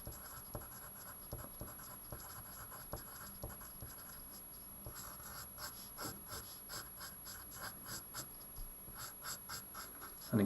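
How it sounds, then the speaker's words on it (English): Pen writing a title on paper during a maths lesson, a steady run of close, soft scratchy strokes that quicken into rapid rhythmic taps and scrapes, alone with no talk. "we put another little title down, nth term for denominators"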